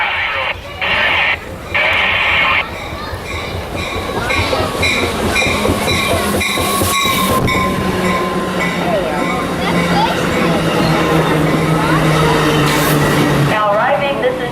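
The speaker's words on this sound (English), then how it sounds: "Now arriving, this is train 583, service to Los Angeles Union Station." A passenger train pulls into a station platform with steady rumbling and rail clatter building over several seconds, close and loud, while station announcements and voices carry over it.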